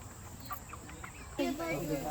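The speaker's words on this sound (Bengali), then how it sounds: "মুরগি আমার সাথে কথা বলতে চাচ্ছে।" A chicken kept indoors in a household gives a short run of clucks near the end, loud and close, after a stretch of low, murmuring background noise.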